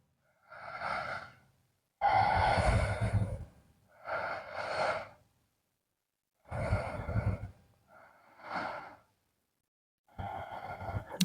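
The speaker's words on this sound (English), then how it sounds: "Taking a few breaths here." Slow, deliberate breaths drawn in and pushed out during a yoga pose, about six close, fairly loud breaths with clear pauses between them and no talking.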